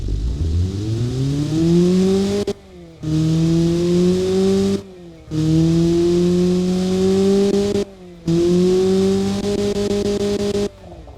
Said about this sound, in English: Actually, engine sounds really good.